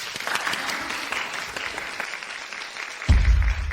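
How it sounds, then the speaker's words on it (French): An audience applauds to welcome a company group president. Steady, fairly soft clapping runs throughout, and a low thump enters near the end. "accueillons avec vos applaudissements la présidente du groupe Céleste"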